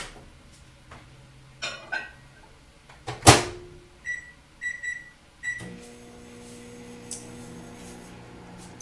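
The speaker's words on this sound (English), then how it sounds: "we're going to pop that in the microwave for 1 minute." A microwave oven heating a mud cake mix with berries for one minute: a few soft clunks and a door shutting, a short series of keypad beeps, then a steady low hum as it starts running.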